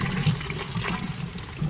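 Antifreeze gushes steadily into a pool plumbing line during pool closing, a close, continuous watery pour with no talk.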